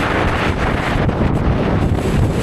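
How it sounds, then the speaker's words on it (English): Strong, steady wind roars and buffets the microphone on an exposed, cold mountain ridge, a continuous loud rumble with gusting surges and no voices. "Also very windy still."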